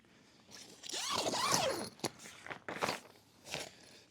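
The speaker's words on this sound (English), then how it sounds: "Still, it has a super high quality" A zipper on a Gazelle T4 EXP tent is pulled in a long rasping sweep and then in several shorter zips with some rustling between them, close and fairly loud, with no talking.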